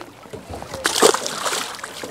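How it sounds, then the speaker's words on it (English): A tope released back into the sea from a small fishing boat in the Eastern Solent gives one brief splash of water that stands out from the quiet surroundings. "I'll get this one back in the water."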